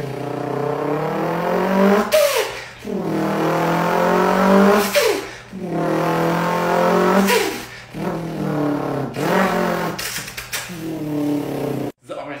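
A voice imitates a car engine revving, mimicking a four-cylinder, a German five-cylinder, a twin-turbo V6 and a Hellcat V8 in about five loud, rising bursts separated by short pauses.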